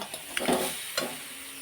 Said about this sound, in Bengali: এটাকে আমি ভালো করে এবার মিক্স করে নেব